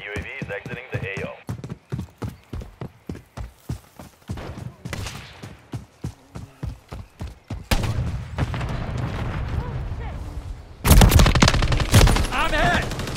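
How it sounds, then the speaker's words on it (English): Gunfire in Call of Duty Modern Warfare 3 multiplayer, a rhythmic run of sharp shots, then a dense burst of automatic fire and explosions with game sounds mixed in. "Taking effective fire!"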